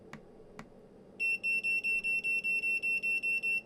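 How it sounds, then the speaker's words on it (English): Aixun T413 200W soldering station beeping as its temperature steps change, a run of about ten short, evenly spaced high electronic beeps after two faint clicks, clear and close in a quiet room. "then it turns the temperature up in 10-degree steps, accompanied with a little beep each time"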